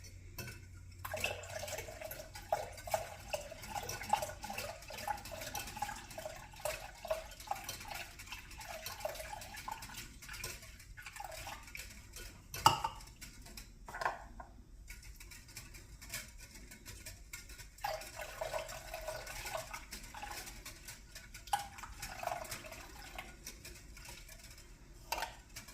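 Cold water is stirred into a peppermint mold mixture in a kitchen bowl, with soft sloshing, intermittent clinks of a utensil against the dish and scattered drips, fairly close and without talk.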